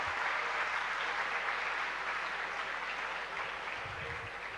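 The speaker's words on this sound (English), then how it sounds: "thanks for this applause" Audience applause at an inaugural session on a university campus: a broad, sustained patter of many hands, steady and even, fading slightly toward the end.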